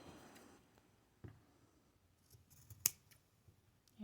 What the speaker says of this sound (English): so I am going to do some trimming